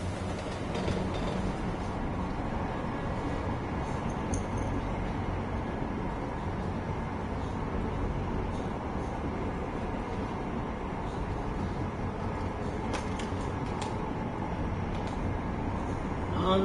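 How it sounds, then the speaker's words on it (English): Steady rumbling interior ambience of a train ride in a PS4 video game, a continuous low rolling drone with faint clatter throughout and no clear talk. "On the train again."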